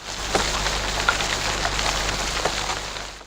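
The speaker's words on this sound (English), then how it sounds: "When it rains heavily, there is so much water flowing everywhere." Heavy rain pouring down, a loud dense steady hiss of drops with a few sharper splashes, close and continuous with no voices.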